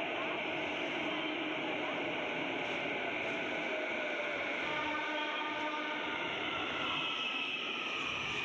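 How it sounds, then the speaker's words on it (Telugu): Hyderabad metro train arriving at a station, a steady broadband rush and hum of the approaching train with faint tonal whine, continuous and fairly quiet without clear talk. "నేను వెయిట్ చేస్తున్న మెట్రో వచ్చేసింది"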